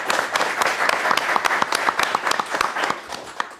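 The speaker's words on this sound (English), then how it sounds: "You owe yourselves a round of applause." An audience applauds a panel discussion on student voice, a dense, steady round of clapping that holds for a few seconds with no speech over it.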